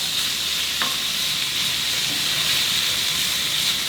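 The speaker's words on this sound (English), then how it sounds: "Okay, we'll let it sizzle up." Steady sizzling and crackling of fajita meat frying in a hot pan, a dense continuous hiss with no talking, and a single faint clink early on.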